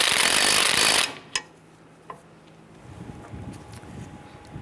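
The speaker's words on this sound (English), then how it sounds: "Now I'm just going to bottom out that lug nut" A burst of power-tool noise drives a lug nut onto a 1995-2001 Ford Explorer wheel hub for about a second, then stops. A couple of sharp clicks and a low background hum follow.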